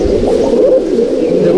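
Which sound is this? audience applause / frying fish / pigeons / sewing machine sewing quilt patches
pigeons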